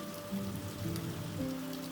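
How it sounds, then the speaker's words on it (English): Steady rain falling outside a barn, a soft continuous patter with a low, sustained tone of music beneath it. "The rain outside continued its steady cadence, a soothing counterpoint to the warmth and light inside the barn."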